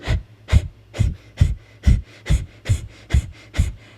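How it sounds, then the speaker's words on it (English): Rapid pranayama breathing, a run of about nine sharp, forceful nasal exhales at a steady quick rhythm, close and loud with no talking. "Another thing that you can do is rapid pranayama breathing"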